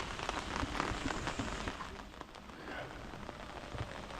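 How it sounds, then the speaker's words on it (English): Steady rain falling at Tam Coc, Vietnam, a dense, even patter on surfaces close by that continues without a break. "Tam Coc in the rain."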